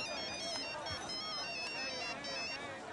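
A telephone ringtone plays steadily throughout a phone-call scene in a Tamil film, loud and continuous with voices over it.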